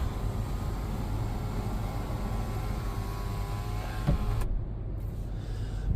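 A car's motorized sunroof closes under one-touch control, giving a steady electric motor whir that runs evenly for about four seconds and then stops abruptly, followed by near silence.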